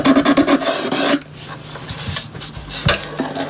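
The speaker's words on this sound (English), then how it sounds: "Bit of sandpaper wrapped around a pen works a treat." Sandpaper wrapped around a pen rubbing along the wooden sides of a Stratotone-style guitar body, a quick series of close, rhythmic rasping strokes followed by softer, slower scraping.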